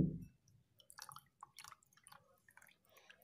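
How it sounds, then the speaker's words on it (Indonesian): Oil draining from cooked instant noodles into a container, a brief heavy pour at the start followed by faint scattered drips and trickles, quiet and close. "setelah beberapa saat kita tiriskan minyak. Pelan-pelan menuangnya ya teman-teman."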